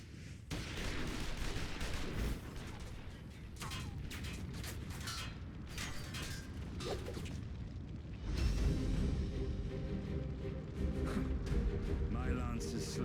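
Gunfire rattles in rapid volleys in a Final Fantasy XIV Stormblood cutscene, with sharp cracks, shouting voices and a heavier rumbling blast near the end.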